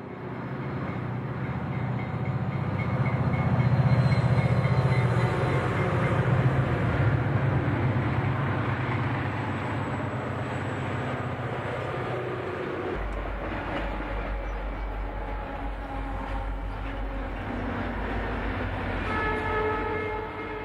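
Freight trains roll along Northeastern tracks in the late 1980s, a steady, loud rumble of wheels and cars that goes on throughout, with a deep low drone and the faint ring of a horn or bell partway in.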